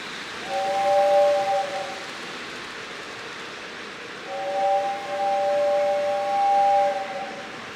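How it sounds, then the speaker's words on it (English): Miniature model trains run in a Christmas display, giving two long steady whistle blasts over a constant hissing background, the second blast longer and rising and falling in volume. "How about we start the trains up and show the folks how they run?"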